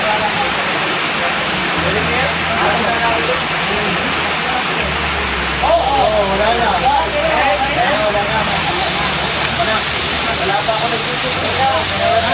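Steady rain hisses throughout at close range, with people chatting in Filipino over it.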